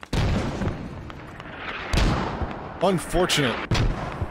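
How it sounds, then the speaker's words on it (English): Mortar rounds boom and crash in the video game Squad, several heavy impacts landing amid battlefield noise while a voice speaks briefly over the barrage. "Great mortar work here."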